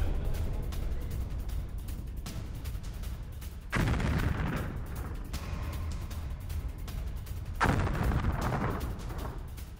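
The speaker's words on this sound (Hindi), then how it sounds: "उन्हें बम से, ग्रेनेड के जरिए टारगेट किया गया" War footage from Ukraine of bomb and grenade attacks on hidden Russian soldiers: sustained rumbling gunfire and blasts, with two heavy booms standing out, loud and harsh throughout.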